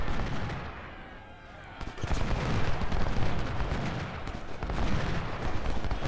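Musket volleys and cannon fire in the Civil War strategy game Ultimate General: Civil War, a dense continuous roar of overlapping gunshots and booms with a brief lull before heavy firing resumes.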